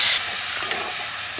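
Whole spices, bay leaves, cumin and dried red chillies frying in hot oil for tempering, a steady bright sizzle with a faint stir, close up and continuous throughout.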